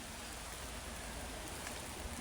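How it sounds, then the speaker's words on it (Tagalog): Heavy typhoon rain pours down in a dense, steady roar, close and loud throughout, with no other sounds. "Kasi malakas ang ulan."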